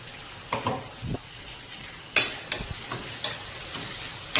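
Onions softened in a pan with tomato puree just added, cooking for tuver totha: a quiet sizzle runs under a few spoon stirs and scrapes against the pan, with no talking.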